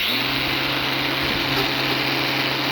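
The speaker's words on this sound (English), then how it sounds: "So to get rid of it now, I'm going to take a grinder quickly over it." An angle grinder whines steadily and loudly up close as it smooths frayed cord on a silicone air-intake hose for a Fordson Major six-cylinder tractor, a continuous high-pitched drone with no talking.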